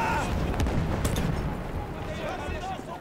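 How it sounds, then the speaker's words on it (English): A grenade blast in the World War I shooter Battlefield 1 during the campaign mission "The Runner": a loud, deep rumbling explosion mixed with sharp gunfire cracks over continuous heavy battle noise, with voices underneath. "How about a grenade, my friend?"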